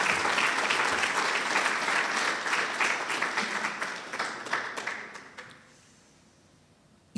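A church congregation claps loudly and continuously, then the applause thins out and fades to near quiet over the final couple of seconds.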